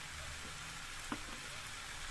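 Chopped tomatoes fry with pumpkin and mixed vegetables in a pan, a quiet, even sizzle running throughout with one brief clink midway.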